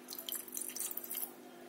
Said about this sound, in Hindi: मैं पानी डाल दिया है